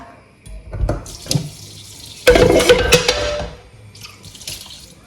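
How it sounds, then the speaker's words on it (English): Water pours and splashes into a pot of sorghum leaves in a couple of short bursts, then a louder, sustained pour close by, tapering off at the end. "I'll go in with more water to cover the sorghum leaf"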